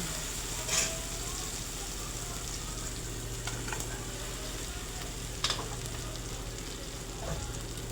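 Chicken masala mixture with chili powder, chicken sauce and salt frying in a pan, a steady close sizzle throughout with a few brief scraping stirs and utensil clinks, no talking.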